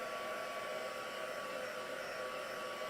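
A hair dryer blowing steadily on mixed media paper, a continuous even whoosh with a faint whine, close and fairly loud, unbroken with no talk.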